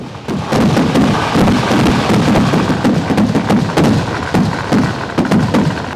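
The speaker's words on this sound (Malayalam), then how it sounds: "ഉത്രളിക്കാവ് പൂരത്തിന്റെ വെടിക്കെട്ട് ഒരു രക്ഷയില്ല ഗംഭീരം എന്ന് വെച്ചാൽ അതിഗംഭീരം" A loud temple festival fireworks display at Uthralikkavu Pooram in Kerala fires in a rapid, continuous barrage of booming bursts and cracks that echo without pause.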